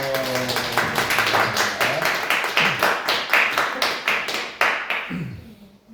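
A church congregation at a Sunday service claps together in a steady, rhythmic beat for several seconds, the clapping tapering off at the end.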